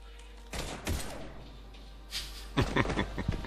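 Gunfire in a firefight in the Mass Effect 3 video game, a few sharp shots early followed by a burst of rapid crackling fire near the end, moderately loud over a low hum.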